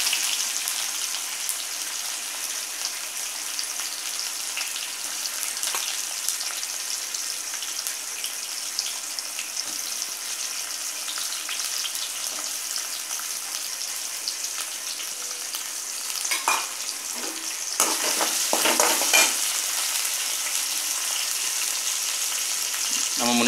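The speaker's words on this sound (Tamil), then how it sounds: "வெங்காயம், தக்காளி, வெள்ளைப்பூடு இதெல்லாம் போட்டு கொஞ்சம் வதக்கினதுக்கப்புறம்" Chopped onion, tomato and garlic sauté in a pan for a karunai kilangu tamarind curry, giving a steady, close sizzle that runs the whole time and swells briefly near the end as the mix is stirred.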